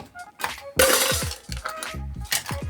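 A drinking glass thrown onto a hard floor shatters with a loud burst of breaking glass, followed by scattered clinks and tinkling shards settling over a few seconds, with no voices.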